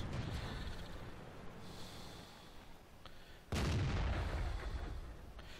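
A booming FV304 self-propelled artillery shot in the World of Tanks video game, one sharp loud blast that rolls into a rumbling tail, with softer game ambience before it.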